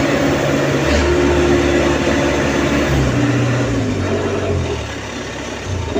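A CAT 313C excavator engine revs under a throttle converted to manual push-button control. The loud, close diesel drone holds high and shifts pitch, then eases slightly lower near the end, with no talk over it.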